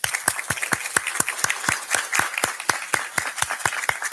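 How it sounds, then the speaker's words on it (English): Audience applauding prospective nurses at a university school of nursing pledge ceremony, with a steady round of clapping from many hands filling the room, sustained and fairly loud throughout. "I would like for everybody to give our prospective nurses a round of"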